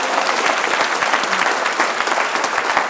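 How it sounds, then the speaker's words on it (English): A conference audience at the Millionaire Master Plan event in London claps in a steady, dense round of applause, loud and continuous throughout with no talk over it. "Give a round of applause for launching last week."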